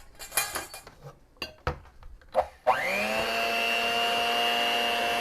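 An electric hand mixer whirs steadily in a bowl of batter after a few clinks and knocks of utensils against the bowl, running close and continuous to the end.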